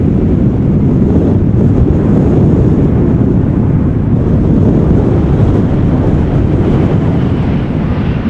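Strong westerly wind from Storm Pia at Amsterdam Schiphol Airport roars loudly and steadily into the microphone, a dense low rumble of buffeting gusts that never lets up.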